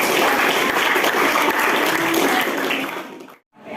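A class gives a burst of loud, dense applause, sustained for a few seconds before dropping away briefly and resuming.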